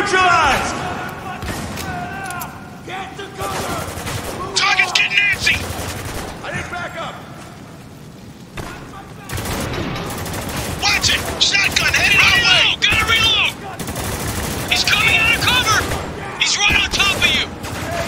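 Bursts of automatic gunfire and mechanical weapon clatter in the video game Spec Ops: The Line, with shouted voices over a dense, noisy battle that stays loud throughout.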